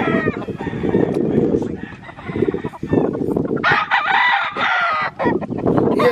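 Roosters crow at a gamecock breeder's yard, loud near calls with drawn-out cock-a-doodle-doo phrases and clucking, several overlapping birds.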